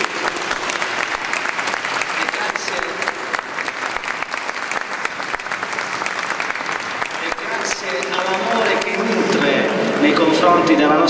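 An audience applauds at a sacred-music concert in Venice, sustained dense clapping that continues throughout and grows slightly louder toward the end.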